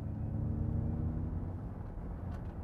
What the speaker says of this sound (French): Ford vient nous jouer une petite bande son dans les baffles arrière pour nous faire croire eh bien, qu'on a un V8 qui ronronne de son échappement